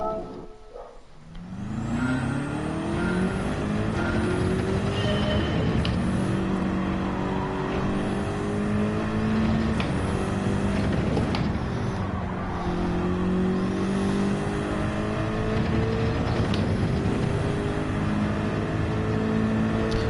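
A BMW Endurance race car in Gran Turismo 7 roars steadily through a qualifying time trial, its engine note climbing and falling through gear changes with brief shift blips, loud and continuous with no talking.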